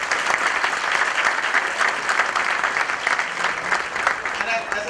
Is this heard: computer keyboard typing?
no